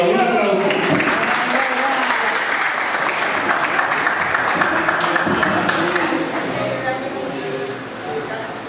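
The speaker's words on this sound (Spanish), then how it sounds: "¡Un aplauso!" Steady applause from an audience at a children's reading circle event, dense continuous clapping that holds strong and then tapers off near the end.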